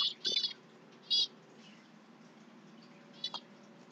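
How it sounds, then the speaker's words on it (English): A small pet bird chirping indoors: three short, high, bright bursts of twittering spread across a few seconds, close but fairly soft in a quiet room. "My little bird saying, amen, amen, amen."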